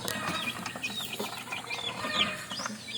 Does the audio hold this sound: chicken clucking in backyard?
yes